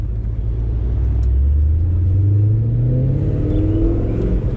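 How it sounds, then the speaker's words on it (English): A Corvette C5 Z06 V8 with its aggressive stock cam rumbles close by, a deep lopey idle rising into a steady rev and holding there, loud and continuous with no voices. "this car sounds cammed at full watt"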